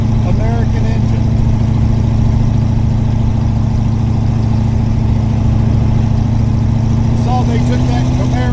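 A big overhead-valve American V8 engine in a hot rod rumbles steadily at idle, a deep continuous throb with a slight rise in pitch toward the end.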